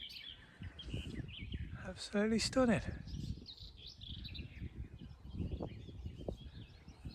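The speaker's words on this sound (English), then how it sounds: "You know, there's always bird chatter here anyway." Birds chirp and call in a woodland nature reserve on an early morning, a scattering of bright tweets and short songs, with one nearby loud trilling burst while a person speaks briefly.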